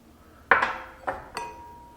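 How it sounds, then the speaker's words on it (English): An egg is cracked against a bowl's rim while preparing air-fried salt and pepper chicken wings: three sharp, close, brittle clicks, the first loudest, with no one speaking. "I'm going to go ahead and crack this egg in here."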